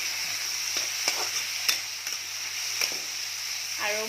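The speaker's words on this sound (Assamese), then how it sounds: "এতিয়া দিম আপোনাৰ নহৰু বটাখিনি, সেইখিনি অকণমান দেৰি ভাজিম।" Garlic paste frying in a pan, a soft steady sizzle broken by several sharp clicks and scrapes of stirring, close up, with a faint voice near the end.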